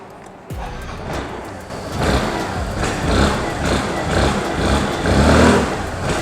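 A Hero Xoom scooter with a stubby exhaust starts and its small engine revs, rising and falling in several throttle blips over a steady idle, loud and close, with no talk.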